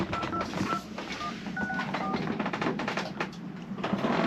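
A telephone dials a number to reach Postal Annex, short beeping keypad tones pressed in an uneven sequence, faint under steady background hiss.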